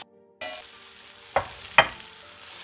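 Onions frying in a pan, a quiet start giving way to a steady close sizzle, with two sharp utensil scrapes or taps partway through.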